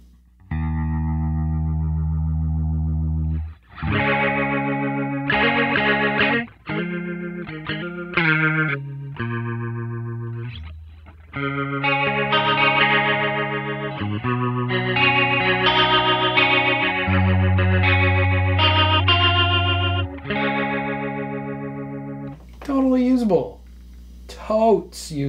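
An electric guitar played through a Line 6 POD amp modeler with a rotary speaker effect, swirling chorus-like chords and short riffs with distinct pauses between phrases, ending with a brief bit of talking.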